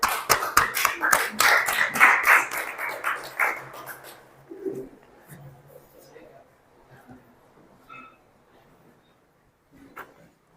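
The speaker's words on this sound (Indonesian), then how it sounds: "Beri tepuk tangannya." A classroom group gives a round of hand clapping during a sociology lesson. The applause is dense and loud for about four seconds, then thins out and fades into quieter room noise, with a brief voice late on.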